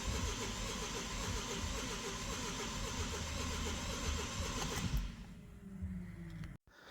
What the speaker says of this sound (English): Here are some samples of the engine sound while cranking.